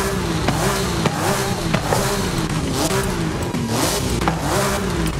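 A Porsche fitted with a different exhaust revs hard in Forza Horizon 5, a loud, close engine note that climbs and drops in repeated surges with sharp pops, heard alone without talk.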